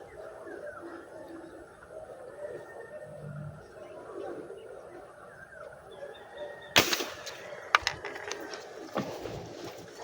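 A sharp, loud gunshot cracks out over steady outdoor background noise, followed by a few smaller sharp pops and knocks.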